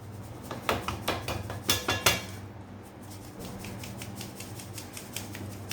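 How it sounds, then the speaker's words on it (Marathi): A metal kitchen sieve sifts a detox drink powder, giving a burst of bright tapping and clinking against the bowl in the first couple of seconds, then settling into a quiet, soft rustle. "आता आपण ही पावडर चाळणीने सर्व पावडर चाळून घेऊया"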